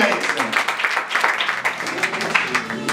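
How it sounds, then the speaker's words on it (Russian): A theatre audience at the opening of a new season at the Actors' House bursts into sustained applause, dense and fairly loud, with the clapping swelling and fading slightly throughout. "Аплодисменты,"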